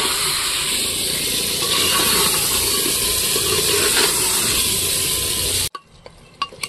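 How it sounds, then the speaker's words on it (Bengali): Mutton cooking in a handi pot over a low flame, a loud steady sizzle with scraping stirs against the pot's base, cutting off abruptly near the end to a few faint clicks. "এইভাবে তো একটু নেড়ে চেড়ে প্রথম দিকে দেব, যাতে তলে না ধরে যায়।"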